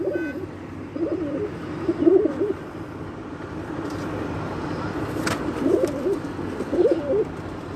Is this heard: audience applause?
no